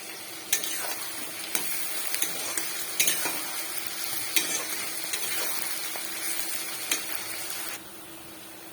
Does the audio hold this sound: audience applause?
no